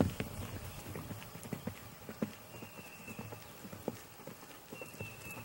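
A horse cantering around a free lunge, its hooves landing in a steady clip-clop rhythm at moderate distance, with faint background noise between the beats.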